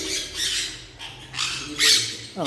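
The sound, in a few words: pet shop bird squawking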